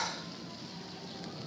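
Water boiling hard inside a homemade steam-producing device, giving a steady close hiss and sizzle with faint bubbling and spitting throughout.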